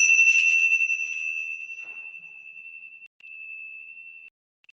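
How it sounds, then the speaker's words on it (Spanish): A single strike of a meditation bell rings out clearly, its bright sustained tone slowly decaying over several seconds into silence. "Vamos a iniciar de nuevo con el sonido de la campana."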